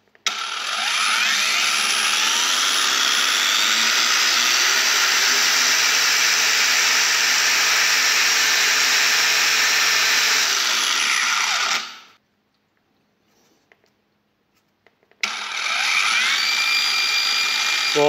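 A Parkside Performance PWSAP 20 Li F6 cordless angle grinder spins up quickly and holds a loud, steady high-pitched whine. It winds down and goes silent for a few seconds, then starts again.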